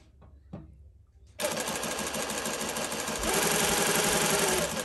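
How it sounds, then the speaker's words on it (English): Reliable 2300SZ industrial sewing machine winding a bobbin: after a few faint knocks, the motor kicks in with a loud, steady whir and rapid mechanical chatter that holds constant and grows slightly louder, with no voices. "So you'll see I press the foot pedal right now and it's going to start winding"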